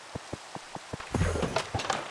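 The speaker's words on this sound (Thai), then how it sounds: "ฝนตก" Rain begins falling in Minecraft 1.12.2 beside an automatic fishing farm. A few evenly spaced ticks lead into a brief, hissing burst of rainfall.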